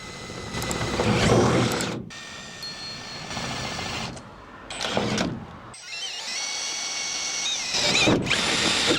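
A power drill bores holes into a van's metal body with loud whirring runs, broken by short pauses, up close. Several separate bursts of drilling occur, some with a shrill metallic whine.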